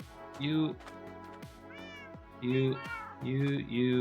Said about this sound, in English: Now let's get those cats.